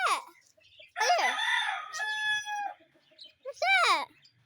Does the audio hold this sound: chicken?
yes